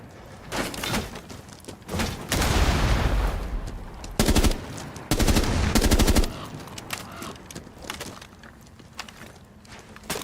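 Video game gunfire comes in several loud bursts, with rapid automatic fire and sharp single shots separated by quieter gaps. Footsteps and faint movement sounds fill the pauses between the volleys.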